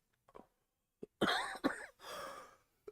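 A person coughs close by, a few short soft breaths followed by a couple of harsher, sharp coughs and a drawn-out raspy exhale, fairly faint overall.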